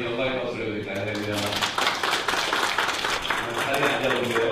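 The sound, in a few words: church congregation clapping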